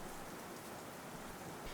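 Heavy rain pours down in a steady, dense hiss that stays unbroken and fairly faint throughout, with no voices over it.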